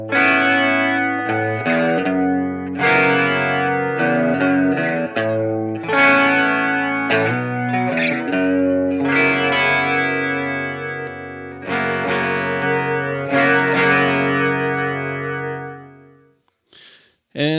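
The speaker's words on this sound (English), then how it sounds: "I really like it as just kind of a mild chorus right now" Electric guitar run through a pedal set to a mild chorus, playing a sequence of sustained, shimmering chords and notes at steady volume for about sixteen seconds before fading to silence.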